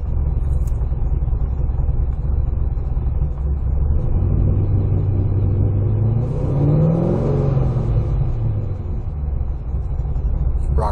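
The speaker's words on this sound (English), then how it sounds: "See how slow that is getting back to idle?" An engine running Holley EFI revs up, then slowly settles back to a steady idle, a loud, close, continuous rumble with a rising and falling pitch sweep partway through.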